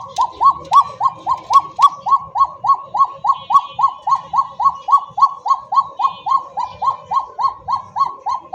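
A pigeon repeats a loud, close call in a quick, even rhythm, more than twenty evenly spaced notes in a row, with faint background noise beneath.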